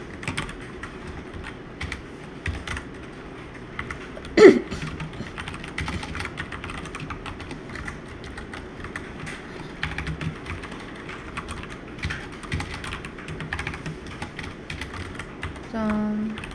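Python code is typed on a computer keyboard in a fast, steady stream of close, crisp key clicks, with one louder knock partway through and no speech.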